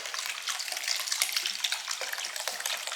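Used, cloudy rust-removal solution is poured into a container, giving a steady, fairly quiet splashing gush for about three seconds with no voices.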